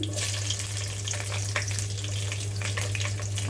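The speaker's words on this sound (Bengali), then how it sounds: "এগুলোকে একত্রে এভাবে ভাজতে থাকবো একটু ঘ্রাণ বের হওয়া পর্যন্ত" Whole spices sizzle and fry steadily in a pan: white and black cardamom, a few black peppercorns, lightly crushed garlic and ginger for a chicken curry. The crackle is close and continuous over a low, constant hum.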